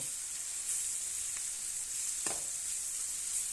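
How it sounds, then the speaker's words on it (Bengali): Turmeric, salt, a bay leaf and ground cumin fry in a pan with a quiet, even sizzle, with a couple of faint clicks of a utensil against the pan. "মশলাটা একটু কষাই নেব"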